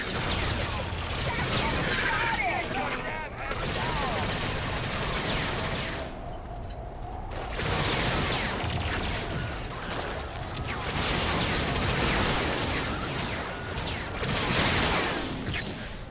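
Blaster gunfire in a Star Wars video game, dense bursts of shots and crashing effects running almost throughout, with a voice talking over the battle noise.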